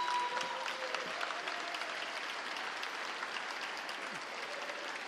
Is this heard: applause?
yes